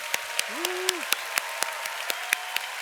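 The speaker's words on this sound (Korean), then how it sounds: "박수로 크게 감사의 마음을 좀 전해주십시오" A church congregation at a family retreat applauds with steady, sustained clapping, individual claps standing out in a loose regular pattern over a low hum.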